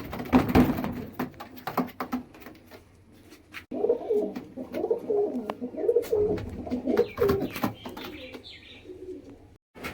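A pair of Paschima Kalsira pigeons coo in repeated soft, throaty phrases through the middle of the clip, with scattered clatter and clicks nearby at the start.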